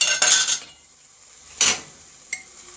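A metal spoon scrapes and clinks against a pot while hot sauce of chili, mustard and ginger is stirred, in two or three short bursts separated by quiet.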